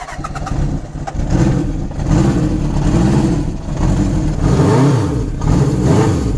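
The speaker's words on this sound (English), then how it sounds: "but this is a cold startup on it" A Honda CB750 Supersport F model motorcycle engine starting from cold, cranking and catching into a rough, uneven idle with surging revs, loud and close.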